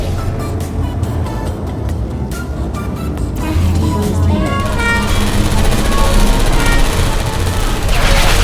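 Rapid automatic turret gunfire from Portal Stories: Mel, a dense, loud, continuous rattle of shots that swells and intensifies partway through, with game machinery noise underneath.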